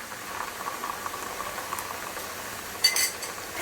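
Kashmiri chilli paste bubbles and sizzles gently in a pan of soya bean curry, a soft continuous patter with a brief louder spatter near the end and no talking.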